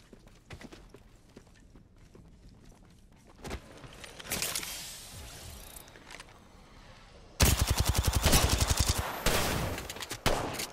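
Gunfire in Apex Legends: scattered shots early, then a loud rapid burst of automatic fire from about the seven-second mark, close and dense, with a brief pause before more shots.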